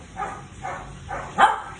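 A dog gives a few soft, whiny vocalizations, three short cries followed by a slightly louder yelp, close by.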